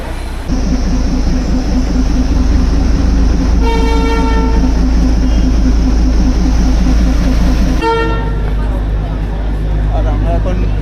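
Darjeeling toy train standing at Ghum station in the hills, with a loud steady engine rumble and two long toots of the horn, plus voices nearby.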